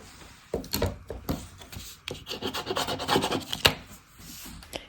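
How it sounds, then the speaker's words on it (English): Bone folder pressed and rubbed firmly along score tape on lightweight cardstock for a folio cover, giving close, dry, scraping strokes in uneven bursts with brief pauses between. "It helps to burnish the score tape with your bone folder after applying it."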